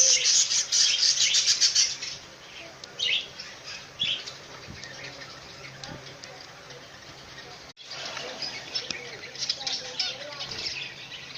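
Zebra finches in a breeding cage give bright, rapid chirps and tweets, loudest at the start and again near the end, mixed with soft wing flutters and rustling.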